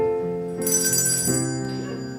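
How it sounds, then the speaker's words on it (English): Bell ringing in a live radio play of It's A Wonderful Life, a bright sustained chime struck two or three times in quick succession, close and clear with no talk. "every time a bell rings, an angel gets his wings"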